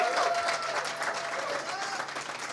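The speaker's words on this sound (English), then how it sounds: "Let's give a round of applause" An audience at the SPARK Boston Impact Awards 2016 gives an awards finalist steady applause, a thick continuous clatter of clapping with faint crowd noise mixed in, easing slightly toward the end.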